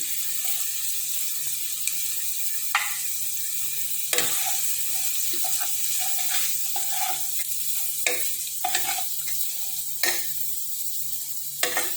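Spices tossed into a hot frying pan and stirred, giving a steady sizzle broken by scraping spoon strokes and occasional clinks, close and fairly quiet, with no one talking.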